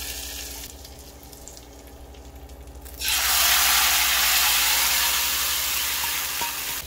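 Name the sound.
tempering spices sizzling poured into curry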